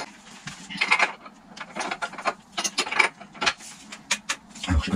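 A Shimano tool works loose a ceramic bicycle bottom bracket, giving repeated mechanical clicks and ratcheting scrapes in uneven bursts, close and moderately loud, with no talk.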